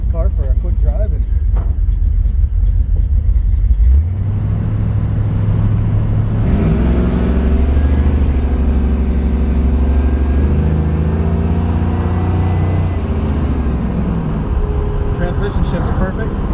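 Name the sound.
1970 Camaro RS/SS driving, automatic 350 turbo transmission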